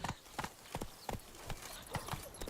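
Horse hooves clip-clop at a steady walking rhythm in The Witcher 3, a series of evenly spaced, fairly quiet hoof strikes over soft background ambience.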